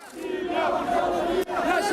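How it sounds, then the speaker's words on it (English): A large, passionate crowd of protesters outside Downing Street keeps up a loud, continuous roar of shouting and chanting, with one brief dip in the noise just before it surges back. "you can see how passionate the crowds are here outside Downing Street"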